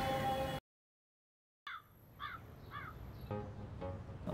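A crow caws in a few short, hoarse calls at moderate distance after a brief silence, with light outdoor background noise.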